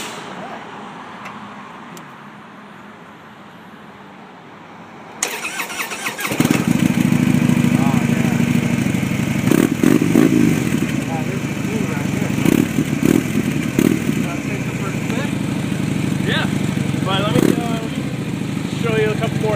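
A 2014 Harley-Davidson FXDL Dyna Low Rider cranks over and fires up, settling into a loud, rumbling idle that runs on steadily, close by, with some talk in the background after a quiet start.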